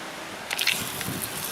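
Water is squirted onto engine parts of a 2013 Chevrolet Agile 1.4 for cleaning, giving a brief wet splash and dripping squish midway through an otherwise quiet stretch.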